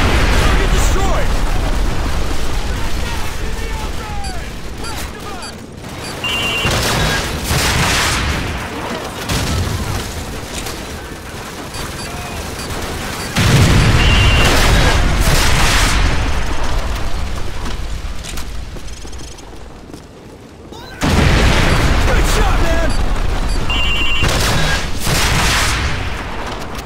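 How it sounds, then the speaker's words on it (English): Heavy gunfire and explosions from the video game Call of Duty 4 in a tank battle, continuous loud dense bursts and booms with brief lulls, mixed with shouted voices. "We're taking heavy fire on our position north of the overpass!"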